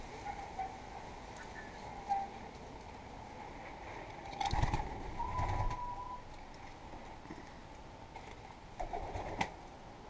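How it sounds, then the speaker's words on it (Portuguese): Eleven pigeons are kept in a chicken coop, and soft cooing comes from them at a distance. Faint rustling and a few sharp knocks are heard around it. "some pigeons, I think that's the name"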